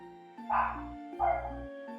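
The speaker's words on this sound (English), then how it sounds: "What the fuck's Jazz barking about? Can you guys hear that?" A dog barks twice, each bark fairly close and moderately loud, with a steady tonal hum running underneath.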